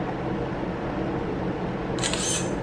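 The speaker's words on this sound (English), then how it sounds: "That is a solid shutter sound." A camera shutter fires once, a crisp near click that lands near the end over a steady background hiss in an indoor setting.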